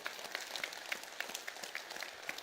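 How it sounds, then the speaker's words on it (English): A church congregation applauds steadily, many hands clapping in a dense, even patter that sounds somewhat distant and soft. "Let's do what I call a God applause."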